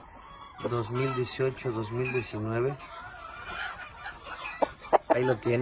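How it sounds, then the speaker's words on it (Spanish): A farm rooster crows loudly several times in a row, repeated cries up close, with someone talking over the final moments. "es el gallo."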